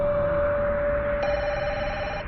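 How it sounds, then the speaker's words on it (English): A telephone rings at a police station in the middle of the night, sounding as a steady electronic tone over low background rumble, with a second higher tone joining partway through, continuous for about two seconds. "The same night, around 2 a.m., Malvern police get an unexpected phone call."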